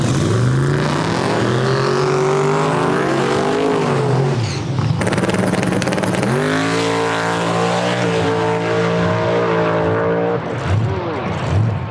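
A drag race car at the Drop The Hammer event makes a loud, close run, its engine howling and rising through the gears with steady high roar and brief shifts, some tire noise beneath.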